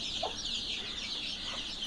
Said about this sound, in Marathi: इथे तीन कोंबड्या आहेत तीन कोंबड्यांच्या बरोबर एवढी पिल्लं आहेत